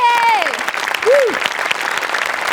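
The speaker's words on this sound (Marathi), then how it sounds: "एकदा जोरात टाळ्या" Loud applause from a studio audience at a Marathi comedy show, a dense burst of clapping that fills the whole stretch, with a brief sung or exclaimed voice at the start.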